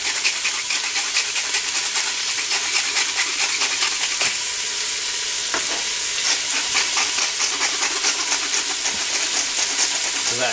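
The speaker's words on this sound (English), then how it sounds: "And now we're just going to add the lamb in there." Lamb for a tagine sears in a hot pan, giving a loud, steady frying sizzle throughout with scattered crackles and the scrape of stirring; no one speaks.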